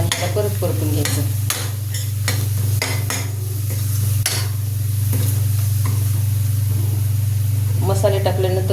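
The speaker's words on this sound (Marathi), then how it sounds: "हळद 1 चमचा टाकायची आणि त्याला परत परतून घ्यायचं" Vegetables being stir-fried with chili powder and turmeric in a pan, with a steady sizzle, a loud low hum beneath and repeated sharp scraping stirs throughout, with a voice talking over it.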